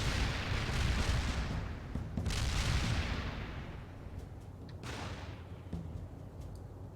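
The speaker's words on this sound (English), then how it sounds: "Mortar barrage delivered." A mortar barrage in the video game World in Conflict brings deep, rumbling blasts, with heavy booms rolling through the first few seconds and a few more distant impacts and cracks fading afterward.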